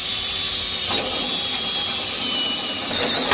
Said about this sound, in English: 1¾ hole saw.